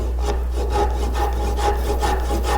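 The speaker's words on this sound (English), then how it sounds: "sawing out the big toe here and making the saw marks 3/8 of an inch deep" A handsaw cuts steadily through wood for a tilt-top table, close and loud, in a regular back-and-forth rhythm of rasping strokes with no talking.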